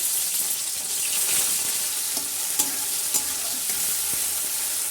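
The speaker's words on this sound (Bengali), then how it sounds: "তো এখানে এরকম আমার মা বটবড়িগুলোকে সব ভাজা স্টার্ট করে দিচ্ছে" Loud, continuous sizzling of lentil dumplings frying in hot mustard oil, with occasional sharp pops and light stirring, close up and without talk.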